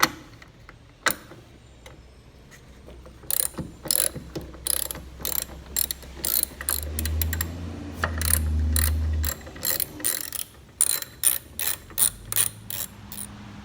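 Sharp ratchet clicks come in quick repeated bursts as 12 mm bolts holding the soft top frame to an NA Miata chassis are loosened, close up, with brief pauses and a low rumble in the middle.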